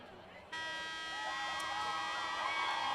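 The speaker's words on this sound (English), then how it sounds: "Buzzer goes off." Scoreboard buzzer at a high school football game, a loud steady harsh tone that starts abruptly and holds, over crowd noise in a stadium.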